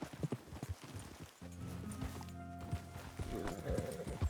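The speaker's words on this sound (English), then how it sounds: "Horse!" Horse hooves clip-clopping in Red Dead Redemption 2, a close, steady rhythmic trot of hoof strikes with a brief tonal whinny-like sound partway through.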